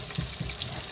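Battered aubergine slices frying in a pan give a close, steady crackling sizzle with a couple of soft bubbling pops, no voices over it.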